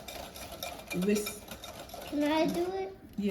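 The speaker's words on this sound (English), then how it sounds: "But we're gonna stir this for a little bit longer." Carrot muffin batter being stirred in a bowl, a steady scraping and clinking of a utensil against the bowl running throughout, close and moderately loud, with a child's and an adult's brief speech over it.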